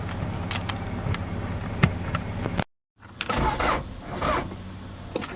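A dead, cold diesel engine cranks over on a lithium battery, turning steadily and loudly for a couple of seconds. It cuts out briefly, then rougher mechanical noise follows up close.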